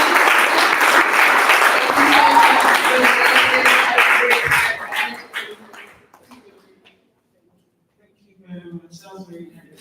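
An audience at a Ghana Pavilion event breaks into loud, dense applause that holds for several seconds, then thins out and fades to silence, and a voice resumes speaking afterward.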